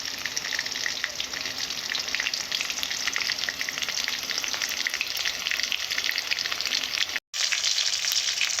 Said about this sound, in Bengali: গ্যাস সীমিত রেখে আপনারা এইভাবে ভেজে নেবেন কিছুক্ষণ